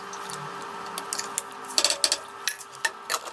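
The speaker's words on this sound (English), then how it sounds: "So the idea is to just stir that through and bring this to a boil and let it simmer" A spoon stirs sweet corn through an arrowroot, canna and yacon soup made with red emperor fish stock in a pot. Close scraping strokes and clinks against the pot sit over a steady cooking hiss, with no talking.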